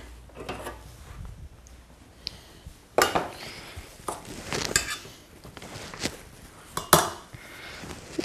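Cooked potatoes tipped back into a cooking pot for spinach and green herb gnocchi: a string of close, sharp clanks and thuds of metal and food hitting the pot, spaced irregularly over several seconds, with no voices.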